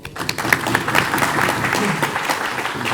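An audience at the 2021 Taqdees E Adab International poetry mushaira in Houston breaks into dense, steady applause that holds at a loud level for the full three seconds, with no voices over it.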